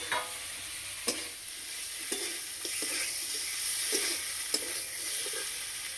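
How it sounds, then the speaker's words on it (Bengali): Fried potatoes and cauliflower are stirred into a spice paste that has cooked down until the oil separates, giving a steady sizzle with a few sharp scrapes and clacks of the spoon against the pan, no voices. "এবার ভেজে রাখা আলু আর ফুলকপি দিয়ে দেবো।"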